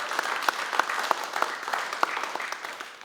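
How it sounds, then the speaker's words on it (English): An audience gives warm applause for a departing colleague, a steady patter of clapping hands throughout, moderately loud and close, with no voices above it. "please join me in really getting him a warm applause for a job well"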